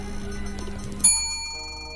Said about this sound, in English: I heard the third and final ding